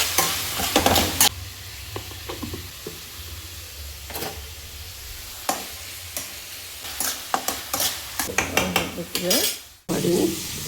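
Lemon rice seasoning of turmeric and salt sizzles in a pan while a spoon stirs it, with repeated scraping and clinking strokes over steady frying, ending in a sharp metallic knock near the end; no talking.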